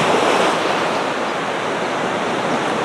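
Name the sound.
stormy sea waves and wind at Anapa central beach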